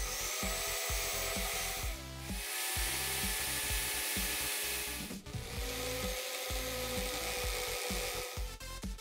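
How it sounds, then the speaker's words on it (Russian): Whirring drill spinning a wooden fishing float body against sandpaper, a continuous abrasive rasp with rhythmic dips as pressure shifts, close and steady with no talking. "при помощи наждачной бумаги мне надо сформировать тело"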